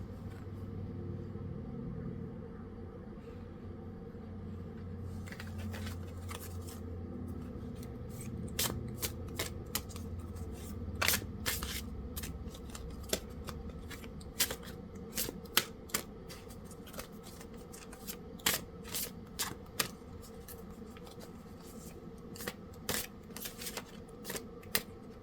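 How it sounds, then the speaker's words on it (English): Tarot cards being shuffled by hand, a run of crisp riffling flicks and taps that thickens into a quick irregular patter, close up over a low steady background rumble. "let's pull some cards"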